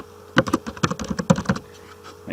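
Close, quick keystrokes on a computer keyboard come in one short burst of about a dozen clicks, typing a slide title in PowerPoint, then stop; no one speaks.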